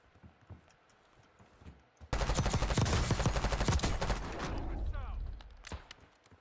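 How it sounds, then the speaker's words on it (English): Gunfire in Call of Duty: Warzone: a loud, sustained burst of rapid automatic shots erupts suddenly and rattles on for about two seconds, then tapers into scattered fainter cracks. "Taking effective fire."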